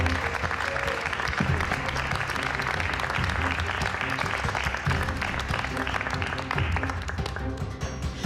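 A crowd applauds Monsieur Eiffel, with continuous, full applause sustained at an even loudness throughout, thick and close with some room rumble underneath.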